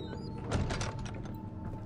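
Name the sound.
door closing in the video game Amnesia: The Dark Descent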